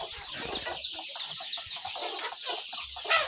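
Chickens on a farm, hens and a rooster, clucking and murmuring in a quiet pen, with repeated soft clucks at close range and one sharper call near the end.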